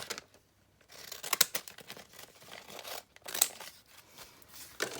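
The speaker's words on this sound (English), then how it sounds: "I need to take my decal scissors and cut off about right there." Decal scissors cutting through a plastic bag at a craft desk: a few sharp snips amid crinkling and rustling, close and fairly quiet, with short pauses between cuts.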